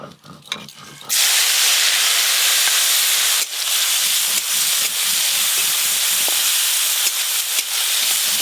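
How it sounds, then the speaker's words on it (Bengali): Prawns hit hot oil in a home kitchen with a sudden loud hiss that settles into a steady, close sizzle and keeps crackling to the end. Brief clatter comes just before. "এবার চিংড়ি মাছগুলো ভেজে নেব।"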